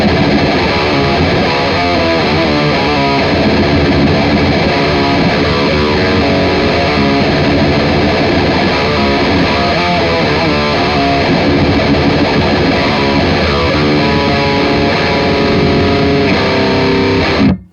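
A heavily distorted electric guitar through a Mesa Boogie Dual Rectifier amp simulation, channel 3, plays dense, continuous riffs, loud and saturated, with no voices.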